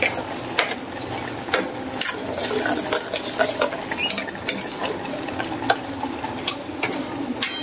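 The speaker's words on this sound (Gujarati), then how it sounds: "હવે આપણે આ ગ્રેવી ને ઉકળવા દઈશું" Corn gravy simmering in a pot for a Gujarati vegetable dish, with steady bubbling and frequent metallic clinks and scrapes of a spoon stirring against the pot.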